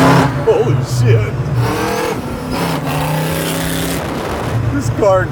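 A full custom supercharged 1971 Chevy Nova drives loudly, its engine note swelling and rising as it pulls away, with people talking over the motor throughout.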